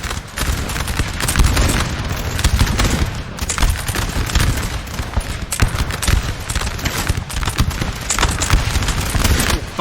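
Dense, continuous crackle of massed musket volleys from a Napoleonic battle between French and Austrian line infantry in Napoleon: Total War, with heavy rolling fire that keeps rattling for the whole stretch and no pauses.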